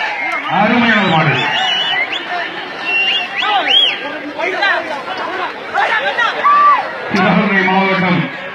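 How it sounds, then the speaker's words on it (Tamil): Crowd at a Tamil bull-taming event (vadamadu manjuvirattu) cheers and whoops in a loud, continuous babble of voices, with excited shouts rising over the general hubbub. "அனைவரும் கரகோஷப்படுத்தி பாராட்டமாக இருக்கிறோம்"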